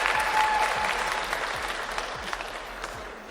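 An audience claps steadily, a dense patter of many hands that stays fairly loud and gradually eases off slightly, with faint voices underneath.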